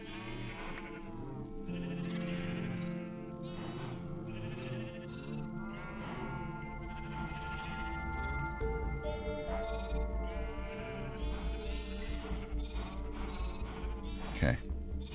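Sheep in the video game Minecraft bleat repeatedly, several wavering calls overlapping at close range against a steady game background, with a person talking over parts of it.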